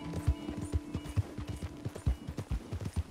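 A horse gallops at full sprint in Red Dead Online, the hoofbeats coming in a quick, steady, rhythmic clip-clop with no pauses, close and clear.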